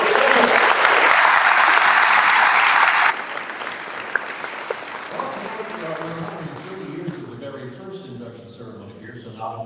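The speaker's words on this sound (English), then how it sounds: "let's have a round of applause for all those people who make it" A hall full of people applauds loudly at a National Teacher Hall of Fame induction ceremony for about three seconds, then the clapping thins out as a speaker resumes talking over the fading sound.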